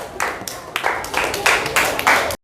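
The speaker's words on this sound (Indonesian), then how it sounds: "tepuk tangan untuk Sabil" A classroom of students claps for a classmate in short uneven bursts, several rounds of clapping rising and stopping abruptly, moderately close.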